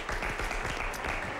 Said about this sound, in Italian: Battiamogli le mani